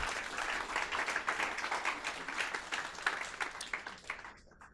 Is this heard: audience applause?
yes